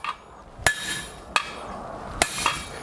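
A hammer striking a hot-cut chisel through hot iron on an anvil over a sacrificial plate, four or five sharp ringing metallic blows at an irregular pace, close and clear.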